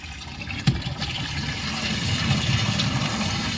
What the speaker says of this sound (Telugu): ఫ్లష్ చేసుకోవాలి వాటర్ని గట్టిగా.